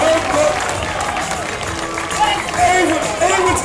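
Roadside crowd at a cycling race in Gent clapping and cheering, a broad wash of applause and babble with an announcer talking loudly over it.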